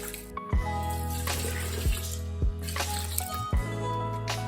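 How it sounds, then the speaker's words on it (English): Water runs and splashes into a pot of washed rice, a steady pour broken by a few sharp drips and thuds, close and moderately loud. "Add water."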